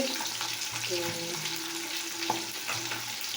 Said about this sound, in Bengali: আর এ দেখো মাছ ভাজা হচ্ছে